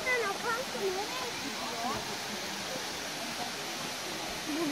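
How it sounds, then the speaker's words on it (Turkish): A waterfall on a trip to Sinop rushes with a steady broadband roar, close and continuous, while a voice speaks briefly over the water near the start. "şelaleden akan su nereye"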